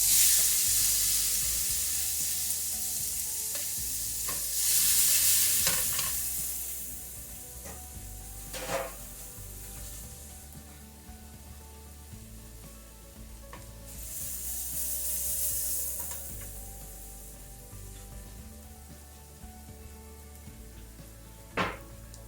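Garlic sizzling in a pan while goto is being cooked, a steady bright hiss that swells loudly twice, with occasional clinks and scrapes of a utensil against the pan.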